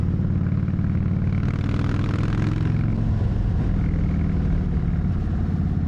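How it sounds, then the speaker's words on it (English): A motorcycle's exhaust note rumbles loud and continuous under heavy wind noise while riding, recorded on a DJI Osmo Action 5 action camera, with no pauses. "picking up a little bit of the exhaust note, because it'd be nice if you can actually hear my bike when I'm riding"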